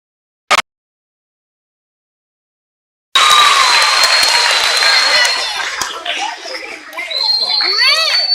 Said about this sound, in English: would you give them, all my performers, a round of applause?